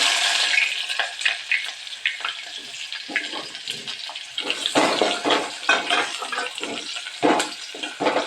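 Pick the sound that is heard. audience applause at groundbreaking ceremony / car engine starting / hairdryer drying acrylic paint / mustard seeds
mustard seeds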